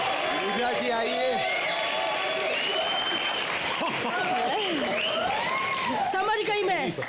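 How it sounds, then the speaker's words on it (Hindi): Studio audience at a Hindi television comedy show, Comedy Nights Bachao, breaks into sustained applause and cheering, with lively voices and whoops running over the clapping throughout. "जोरदार तालियां हो जाए।"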